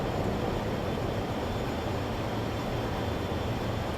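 Steady, dense jet roar from an F-18 Super Hornet in Microsoft Flight Simulator, a continuous broadband rumble holding level for the whole stretch with no talk over it.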